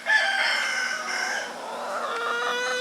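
Several chickens, including Rhode Island Red laying hens, cluck and squawk continuously close by, a busy overlapping chorus of hen calls with no talking.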